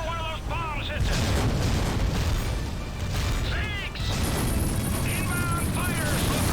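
Heavy booms and rumbling blasts roll through a World War II Pearl Harbor attack in Medal of Honor Rising Sun, with dive-bomber whistles and mechanical clatter over the din and shouting voices now and then.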